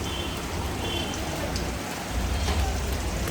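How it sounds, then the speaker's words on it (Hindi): Heavy rain pours steadily outdoors in a dense, continuous hiss of drops on surfaces, growing a little louder toward the end, with no voices. "बारिश बहुत तेज हो गई थी"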